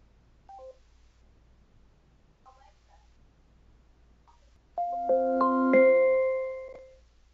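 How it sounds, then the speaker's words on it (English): An Amazon Echo drop-in call chime sounds from the receiving device, a clear bright multi-tone electronic chime rising in quick steps and ringing out over about two seconds, preceded by a few faint short beeps in a quiet room. "when you drop in the thing that you're dropping into gets to hear that beautiful little chime"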